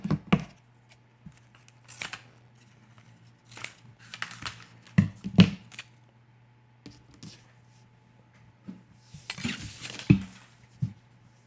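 Scissors cut away an infusible ink transfer sheet during Cricut layering on a T-shirt, giving scattered close snips and crinkly plastic rustles spread across the stretch over a faint low hum, with no voices.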